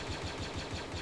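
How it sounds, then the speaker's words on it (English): Warthog vehicle engine in a Halo-style video game, a steady mid-pitched idling rumble with a regular pulsing throb, loud and continuous without speech over it. "Enemy Warthog."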